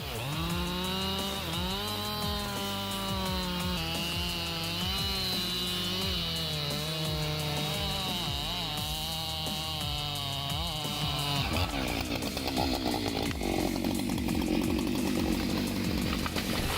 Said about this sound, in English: The chainsaw superhero boasts a massive 90cm long Schwerp blade that skillfully conquers the hardest woods.